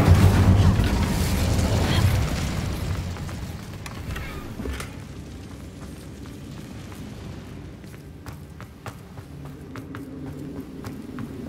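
A Bombarda explosion spell goes off in Hogwarts Legacy, a loud booming blast at the start that fades into a lower rumbling tail with scattered crackling impacts.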